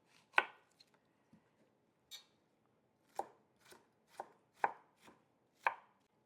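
Knife chopping purple vegetables on a board for tomato gazpacho, with six or seven sharp, separate chops at an uneven pace in a quiet kitchen and no talking.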